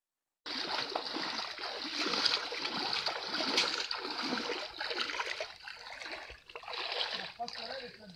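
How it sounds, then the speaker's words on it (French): A clear outdoor stream flowing with a constant rushing, splashing wash of water, loud and close, with people talking over it at times. "Ce beau ruisseau, très clair d'abord."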